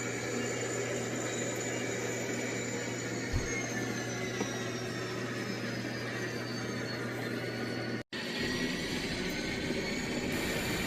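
Model railroad train crossing Elm Street in South Deerfield where a semi truck waits, with a steady mechanical rumble and a ringing, whistle-like tone running throughout, briefly cut out near the end.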